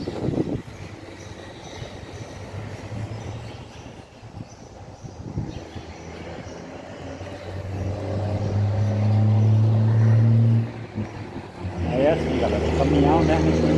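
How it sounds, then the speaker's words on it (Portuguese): A heavy truck engine runs at a DAF vehicle maintenance depot in Petrolina, rumbling and rising in a loud drone toward the end, with a person talking over it. "Caminhão, né?"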